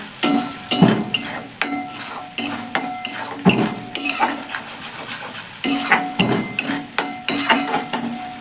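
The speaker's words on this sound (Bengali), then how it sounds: "এই দেখুন বন্ধুরা, মশলাটা ঠিক এরকম কষানো হয়েছে" Spiced masala for an eggplant tok curry sizzling in a pan, a spoon scraping and clinking against the metal in repeated stirring strokes, close and fairly loud with no talking.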